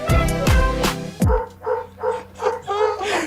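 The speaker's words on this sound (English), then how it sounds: "These dogs are getting super irate." Dogs bark loudly in a quick burst of three or four close, full barks, then a steady run of softer, rhythmic yips and whines follows.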